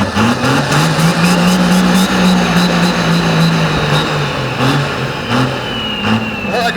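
A 1500 HP Cummins diesel-swapped Mustang doing a burnout at a SEMA burnout contest, its engine loud and close, revving and bouncing off the limiter in repeated surges while people talk over it.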